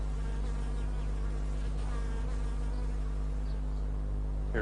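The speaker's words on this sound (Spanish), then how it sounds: "Para John Miller, el sonido de las abejas es como el sonido del dinero" Honeybees buzz in flight with a continuous, even drone, a dense swarm hum that holds steady throughout, with a louder bee passing near the end.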